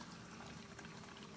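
Water from a repaired aquaponics pump flows back through the system, a soft, steady gurgling rush of liquid, faint and continuous with no talk.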